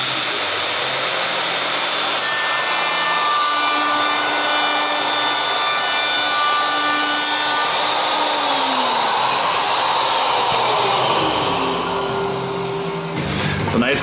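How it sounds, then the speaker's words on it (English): A power saw cuts a dado in wood for shop drawer runners, a loud steady whine with grinding wood noise running through the whole pass, its pitch sagging toward the end as the blade winds down. "I've been cutting the bottom part of the dado"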